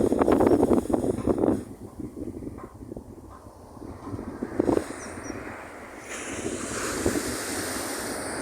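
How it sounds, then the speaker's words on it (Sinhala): Ocean surf breaks and washes onto Sangaman beach along the Ampara road in Sri Lanka, a loud rolling roar that swells and recedes under heavy gusting wind buffeting the microphone. "ලස්සන මුහුදු තීරයක්."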